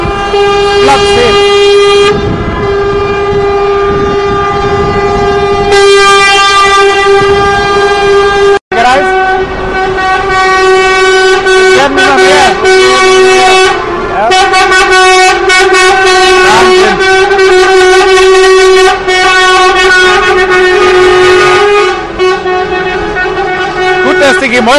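Loud, repeated horn blasts from many buses at a bus industry demonstration in Berlin, sustained and overlapping tones echoing off surrounding buildings, with a brief pause near the middle and voices underneath.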